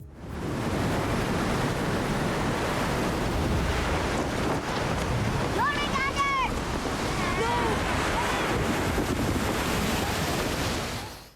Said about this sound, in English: A violent storm hits the ship, and in the chaos, Torvi's daughter, little Asa, has a vision of Jormungandr, the world's serpent, and is swept away by the waves